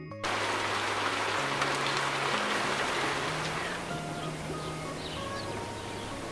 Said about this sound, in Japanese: 窓を叩く優しい雨の音